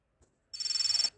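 A telephone rings once more, giving a single short burst of trilling electronic ringtone of about half a second, preceded by a faint tap and fairly quiet overall.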